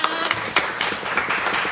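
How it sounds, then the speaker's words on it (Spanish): A brief burst of applause at a religious gathering for a sister who has just spoken, a short patter of scattered clapping from a small group, fairly close. "un aplauso para la hermana."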